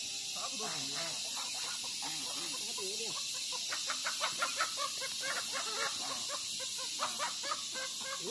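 A hen and a rooster clucking on a hot day in Chongqing, a run of short, rhythmic, close clucks that start after a voice talks at the beginning.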